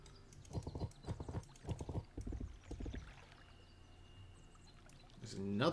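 Horse hooves clip-clop in the video game King's Bounty: The Legend, a short run of rhythmic, moderately close hoofbeats that stops midway and leaves a quiet ambient bed.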